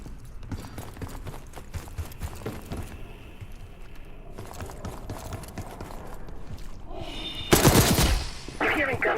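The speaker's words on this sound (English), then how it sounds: "You hearing gunfire?" Sporadic gunfire bursts rattle from floors below inside a building in Call of Duty Black Ops 6, mixed with mechanical clatter and game ambience, growing louder near the end.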